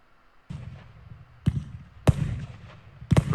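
Fireworks from a wholesale product demo go off in four sharp, close bangs spaced about half a second to a second apart, each followed by a short crackling tail, with no voices.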